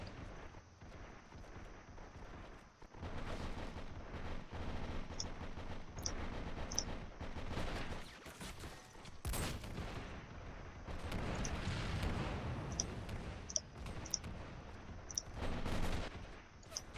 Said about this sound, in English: Then finish the last salvo on the T-34 as it's dead.